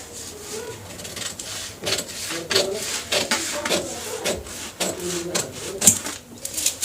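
Scissors cut fabric along a marked line for a pair of large trousers, giving close, repeated crisp snips and rubbing strokes at an uneven rhythm.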